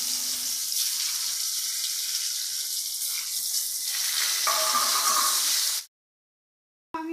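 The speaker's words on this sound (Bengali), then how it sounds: "এবার আমি আলুগুলোকেও হালকা করে ভেজে নেব।" Potatoes lightly frying in oil in a pan for a Bengali egg and potato curry, a steady close sizzle that runs alone for several seconds before cutting to silence, then returning briefly.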